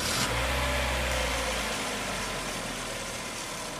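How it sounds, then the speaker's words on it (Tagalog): A first-generation Honda CR-V engine, worked on for overheating when the air conditioning is switched on, turns over and settles into a steady, fairly loud idle with a low hum that continues throughout. "Pa-start ko ulit itong makina"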